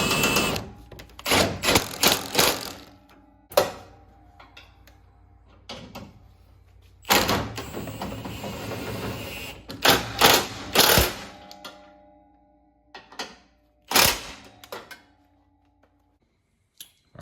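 A power tool tightens 18 mm bumper bolts on a 2015-2019 Duramax truck in repeated sharp bursts of whirring and rattling, separated by short pauses and handling clatter.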